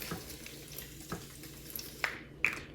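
Water from a bathroom sink tap runs and splashes softly in short bursts, close by, with a few small clinks and knocks of handling around the basin.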